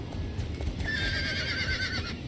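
A horse in the Star Stable Online video game whinnies in a long, wavering neigh over a steady, soft patter of hooves, fairly close and clear, with no talking.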